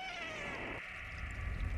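A cat meows in the video game Stray, a single drawn-out, faint call that sounds distant and alone, fading over a quiet ambient background.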